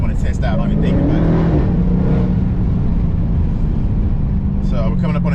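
A 2020 Dodge Charger Daytona Hellcat Widebody drives in sport mode with a loud, steady engine drone heard from inside the cabin, while someone talks over it.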